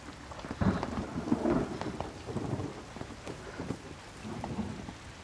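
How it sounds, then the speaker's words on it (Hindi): A sudden heavy downpour hisses steadily while deep rolls of thunder rumble through it, with sharp cracks near the start and no voices. "अचानक से बारिश आ गई।"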